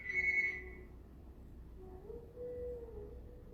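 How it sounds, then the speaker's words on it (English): A landline telephone rings indoors, one short electronic trill near the start, then a faint lower tone lingers over quiet room hiss. "sorry about the phone ringing"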